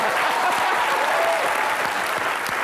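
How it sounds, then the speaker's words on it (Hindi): A studio audience at a comedy show applauds loudly for Priyanka Chopra, a dense, sustained burst of clapping from a large crowd that holds steady throughout. "प्रियंका के लिए जोरदार तालियां"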